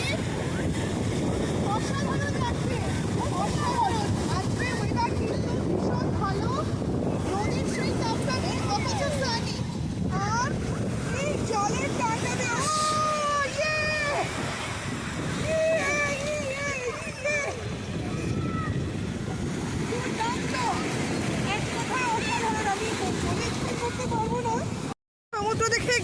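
Sea waves at a UK beach make a steady, broad roar mixed with wind buffeting the microphone, while several voices talk and call out over it throughout.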